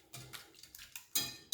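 A spoon clinking and scraping against a dish while garlic and chili seasoning are stirred in, a run of light irregular taps ending in sharper knocks, no talk.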